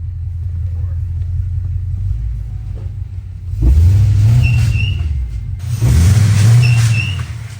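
A car with a swapped Coyote V8 and no power steering, driving with a low engine rumble that swells into two strong revving pulls, with faint squeaks and talk present.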